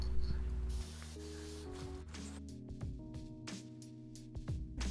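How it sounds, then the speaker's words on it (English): Aerosol lacquer sprayed in light coats onto a steel coffee table base outdoors, a close hissing spray in short repeated bursts with brief pauses between passes. "I took the table outside and sprayed a few light coats of lacquer to protect the steel from rust"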